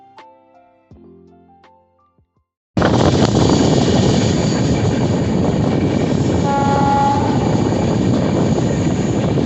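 Kanchankanya Express rolling through the Dooars forest, a loud steady roar of wheels and carriages running continuously at close range after a brief quieter lead-in with faint tonal sounds.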